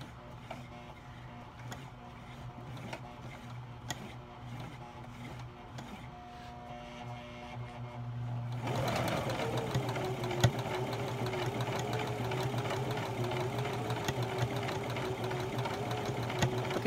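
A sewing machine starts slowly stitching embroidery at the edge of a fabric baby blanket, then settles into a loud, steady whirring hum that runs to the end after a quieter stretch of background sounds.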